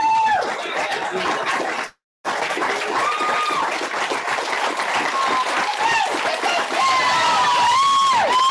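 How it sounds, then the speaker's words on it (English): An awards ceremony audience for Rookie of the Year gives dense, sustained applause, loud and close, that cuts out briefly once and then resumes. Faint voices and whistles carry over the clapping. "a big round of applause for our Rookie of the Year"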